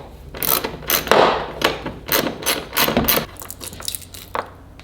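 A 10mm socket ratchet works on the hatch hardware bolts of a Nissan 350z, making a run of close metallic clicks and clanks in uneven bursts, with no talking.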